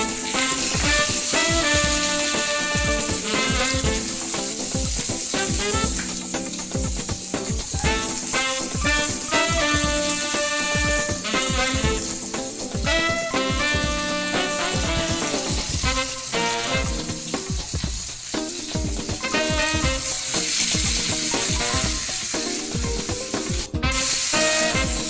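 Steak sizzles loudly and continuously on a hot griller oiled with olive oil, with clattering, scraping and rhythmic tapping on top of the hiss, and no voices.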